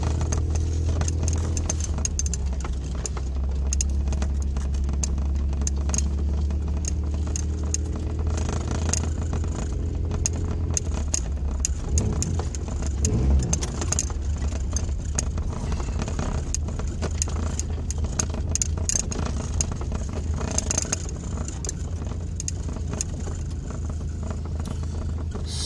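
Toyota car driving after an exhaust leak patch, with a low, steady engine rumble and road noise from inside the cabin, plus scattered rattles and clicks, moderate and continuous.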